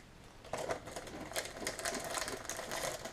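Crispy cannoli shells crackle and crunch as they are unwrapped and handled up close, a faint, quick run of dry snapping and rustling with no voices.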